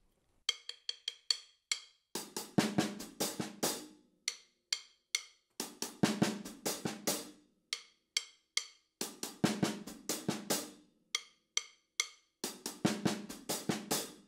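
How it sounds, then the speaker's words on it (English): A drum groove at a quicker tempo, bright hi-hat ticks leading into repeated snare-and-kick patterns, with paired hi-hat edge hits closing each phrase. "We can actually play those two singles at the end on the hi-hat on the edge."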